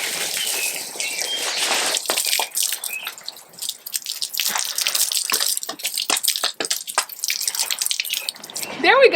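A garden hose waters spring and summer front porch planters in Zone 5B, a steady rushing spray splashing on soil and foliage with irregular bursts and drips, fairly loud and close.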